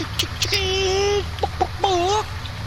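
Chickens in a farming game cluck and squawk up close, a few drawn-out calls followed by short clucks, loud and clear with no talking.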